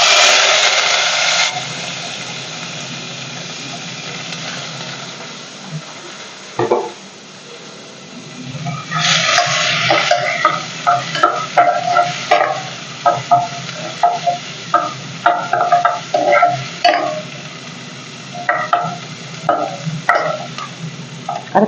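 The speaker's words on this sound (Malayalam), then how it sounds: "അതും കൂടെ ഒന്ന് വഴറ്റിയിട്ടെ" Dried red chillies and shallots sauté in hot oil for a drumstick-leaf curry, a loud steady sizzle overlaid with repeated scraping stirs and clinks of a ladle against the pan.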